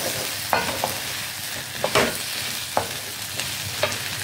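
Brinjals sautéing in a pan for kara kulambu: a constant frying sizzle broken by a few sharp clacks of a spoon against the pan at irregular intervals, no talking.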